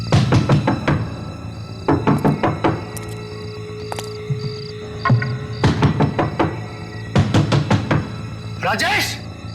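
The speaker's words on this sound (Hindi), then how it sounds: "तुम यहाँ खड़े रह के लगातार दरवाजा नॉक करते रहो" Repeated knocking on a door comes in loud bursts of rapid thuds, broken by pauses, with voices talking in between and a faint beeping tone in the background.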